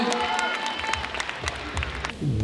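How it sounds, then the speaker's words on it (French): A seated audience claps briefly during a talk about success stories from the French suburbs, with a short burst of mixed clapping and crowd noise and some voices underneath. "On applaudit quand même"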